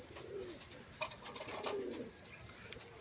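Pigeons returning to their home loft coo softly in a few low, rolling calls against a steady high hiss, with no talking over them.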